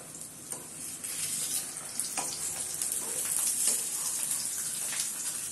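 Ragi adai, a finger millet flatbread, fries in a little oil on a pan, giving a steady, close sizzle with crackling bursts throughout and no voices.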